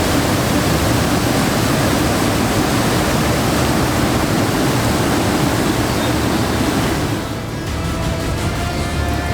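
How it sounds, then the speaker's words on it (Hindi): The swollen Ganga river rushing in flood at Haridwar after heavy rain: a loud, unbroken roar of churning water, close and steady for the whole stretch, dipping only slightly near the end. "भारी बारिश के बाद उफान मारती बह रही गंगा नदी हरिद्वार में हड़कंप मचाने लगी है।"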